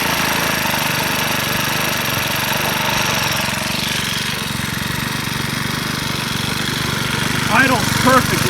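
A Troy-Bilt 575EC lawn mower idles after a carburetor replacement, its small engine giving a loud, steady, continuous drone close by, with a few brief louder sounds near the end.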